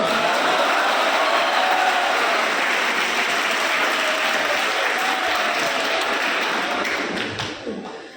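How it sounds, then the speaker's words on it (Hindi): Audience applause fills an indoor meeting hall at a police public-interaction event in Kota, steady, dense clapping from a crowd that holds for about seven seconds before tapering off. "आप तो ऐसे ताली बजा रहे हैं"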